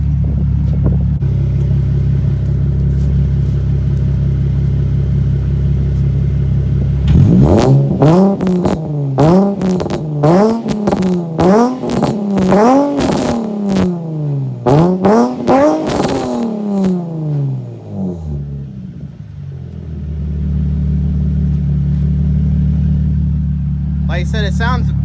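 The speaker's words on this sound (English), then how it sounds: "the exhaust sounds like real tinny sounding, free revving it" A Nissan 350z sports car with a tinny-sounding exhaust free-revs in a loud, close series of sharp rising and falling bursts, set between stretches of steady idle rumble at the start and end.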